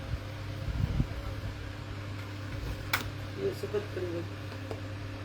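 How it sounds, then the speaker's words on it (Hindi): An electric fan blows air indoors, giving a steady low hum and airy hiss throughout, with people talking over it and a few soft knocks. "या पंखे की हवा चल रही है।"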